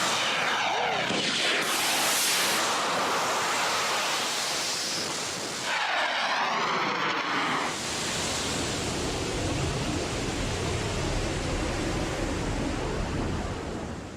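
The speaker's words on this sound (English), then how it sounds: "The rocket climbs over half a mile up." A model rocket ignites and climbs more than half a mile, giving a loud, sustained roaring rush of exhaust that fills the whole stretch, surging at liftoff and then holding steady as it ascends.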